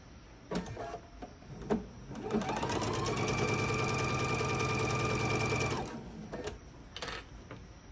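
A sewing machine stitches a seam along fabric for a split panel wall hanging, with a few clicks and handling noises, then a sustained close whirring run of about three seconds before it stops.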